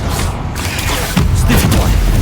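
Bombarda spell explosions in Hogwarts Legacy, with a dense roaring blast and rumbling booms that swell partway through, loud and close, amid the game's combat noise.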